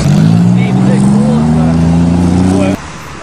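A farm's fastest race car revs in a field race, its engine a loud, close drone that climbs slowly in pitch for nearly three seconds before abruptly cutting off.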